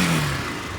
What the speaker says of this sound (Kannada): ಇಂಜಿನ್ ಸೌಂಡ್ ಚೆಕ್ ಮಾಡ್ಕೋಬೋದು.